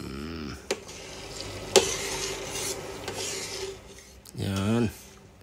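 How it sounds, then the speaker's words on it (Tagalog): Eggs stirred and scraped in a frying pan, giving a steady rasping, rubbing texture with a few sharp clicks of the utensil against the pan, close up, with brief bursts of voice at the start and end. "Pritohin natin yung itlog."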